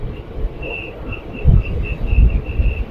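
A passenger train runs through hills on a trip from Muthampatti toward Bangalore, rumbling with low thumps of the carriages and a faint repeating squeal from the wheels, heard from inside with some wind noise.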